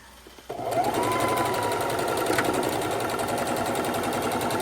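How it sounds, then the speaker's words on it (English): A sewing machine starts up and runs steadily, stitching fabric strips together for quilt binding, its rapid mechanical stitching whirring close by with a continuous rhythmic clatter. "bring it over to the sewing machine, and we're going to sew them together to make our binding"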